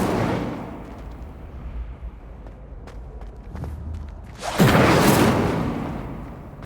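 Spells are cast in the Hogwarts Legacy video game: soft thuds and faint whooshes give way to a loud, bright magical burst that swells and slowly fades near the end, with no voices present.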